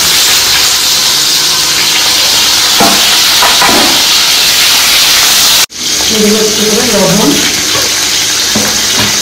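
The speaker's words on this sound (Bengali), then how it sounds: "আমি এখন এই তেলেই দিয়ে দেবো উস্তা" Bitter gourd fries in hot oil with a loud, close, continuous sizzle and occasional stirring scrapes, and a voice briefly speaks over the hiss near the end.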